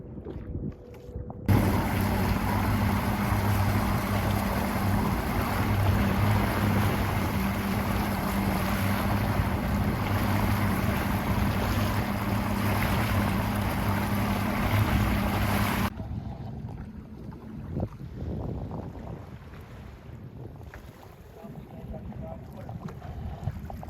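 Boat cruising through Stonington Harbor and New London Harbor in Connecticut, with a steady loud engine drone and wind rushing over the microphone for most of the clip, then a quieter stretch with water and wind noise.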